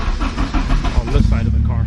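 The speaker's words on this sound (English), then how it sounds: "So let's bring the car down, start her up, see what it sounds like." A cold car engine cranks and catches, firing into a rough, rising mechanical roar that settles into a steadier run by the end.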